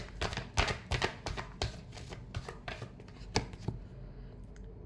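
Tarot cards riffle and slap in a quick, soft, close-up shuffle, a cluster of crisp flicks that trails off into near silence at the end.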